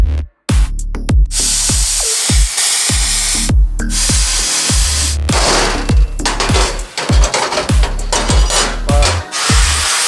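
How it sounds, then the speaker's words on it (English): A plasma cutter is run freehand through steel plate during suspension work on a Baja Bug. It gives a loud, close, harsh hissing roar in repeated bursts with sharp starts and brief gaps, and no talking. "So I'm just gonna plasma cut it freehand."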